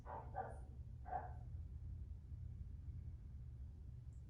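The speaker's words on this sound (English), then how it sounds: "just noticing external sounds far away, dogs barking" A few faint, distant dog barks near the start over a steady low rumble, then only the background hum remains.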